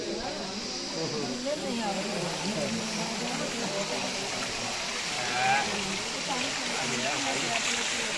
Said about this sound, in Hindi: ये किस तरीके से कितने तेज पर्वत से पानी गिर रहा है।